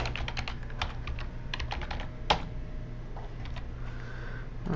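Clicky keystrokes on a computer keyboard as an email address is typed, irregular quick taps in short bursts with one sharper key strike midway, close and moderately quiet over a low steady hum.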